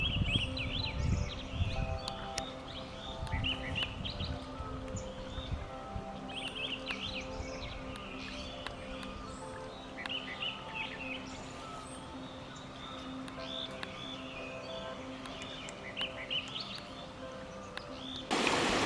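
Wild birds call and chirp continuously through a Himalayan forest at Sattal, with varied overlapping songs near and far, including a blue-capped rock thrush, over a steady soft background hum and occasional rustling.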